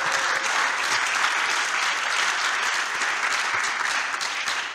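A church congregation applauding during a French-language sermon, a dense, steady round of clapping from many hands filling the room, sustained and fairly loud before tapering slightly at the end.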